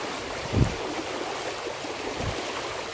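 Fast-flowing river water on a mudlarking trip, a steady broad rush with a couple of low thuds, moderately quiet and with no voices.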